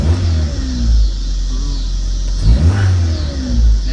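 A Honda Civic engine, just fitted with a manual gauge cluster, revs up from idle in a couple of loud, close bursts that rise and fall, with a steady idle rumble between them.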